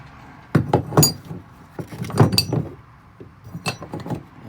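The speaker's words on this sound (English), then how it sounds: "I'm just going to take this rubber bushing, I'm going to pop it out, take it out through the top side of the shifter" A rubber shifter bushing being popped out of the shifter on a Honda Civic EF hatchback, giving several sharp clicks and small knocks spread over a few seconds, close and fairly clear, with no talk.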